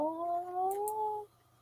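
A pet cat gives one drawn-out meow lasting over a second, close and clear with a gliding pitch, in a quiet indoor room with no talking.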